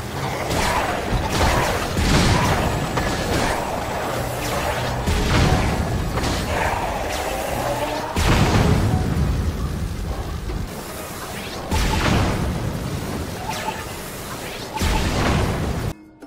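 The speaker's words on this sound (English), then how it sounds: "One of the best parts is that Link is fully protected from cannon fire" Tank cannon fire in Zelda: Tears of the Kingdom: a loud, repeated series of booming blasts and crashing impacts at irregular intervals, interspersed with whooshes and mechanical clatter.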